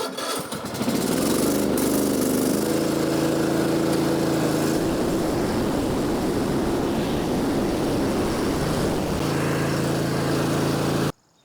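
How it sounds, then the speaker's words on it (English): A riding lawn mower engine drones loud and close as the machine backs up over grass, its steady roar shifting pitch and rumble midway before settling again. "I'm going to go ahead and back the mower up and we'll see how much grass is under here."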